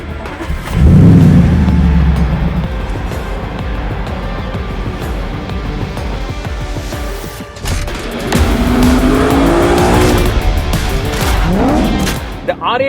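An Audi R8 V8 sports car drives close by, engine revving loud with tyre noise and a rising roar, a brief drop in the middle and another strong surge near the end.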